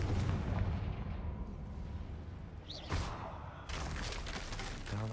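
Confringo blasting spell exploding in Hogwarts Legacy: a sharp blast rings out near the three-second mark over a steady rumbling game background, then sustained crackling debris follows.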